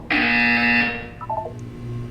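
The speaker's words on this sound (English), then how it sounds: "When you hear the buzzer, look down at the floor" A loud harsh electronic buzzer in the video game Portal 2 sounds for about a second, then a short falling sequence of electronic tones fades out, with no talking.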